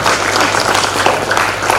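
Students in a large crowd give the parents a loud, dense round of applause, a continuous close-up roar of clapping with no voices audible above it.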